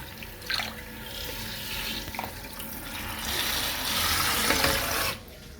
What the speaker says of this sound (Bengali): তো প্রথমে প্যাচটাকে জল দিয়ে ভেজাতে হবে।